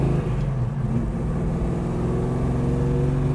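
A 1970 Dodge Charger Hemi V8 running loud and close, a deep throbbing rumble with a rough, steady pulse and slight swells in revs, no talk over it.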